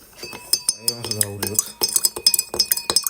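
A spoon stirs sugar into water in a glass, making quick, bright clinks in irregular bursts close by, with a brief murmur of voice partway through.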